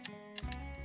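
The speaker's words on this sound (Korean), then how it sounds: "그래픽카드 락 버튼 이거 딸깍 하면은 열립니다." The graphics card lock button on an MSI MPG Z890 Edge TI WIFI motherboard clicks open, giving a few small sharp plastic clicks close up in a quiet room.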